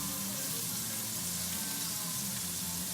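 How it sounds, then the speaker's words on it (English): Veal scallopini sautés hot in a pan with a steady, loud, hissing sizzle that runs unbroken with no pauses. "I'm going to saute these hot on both sides"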